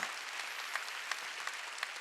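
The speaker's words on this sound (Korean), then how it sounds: "박수로 하나님께 영광 돌려요." A church congregation at a Wednesday worship service applauds, a faint, distant wash of clapping with a few sharper claps standing out at regular intervals.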